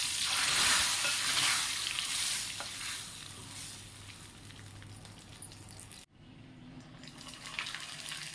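A popu tempering fried in oil for mashed dal in a home kitchen: a loud close sizzle and stirring at first that gradually fades, then breaks off abruptly before a quieter hiss resumes.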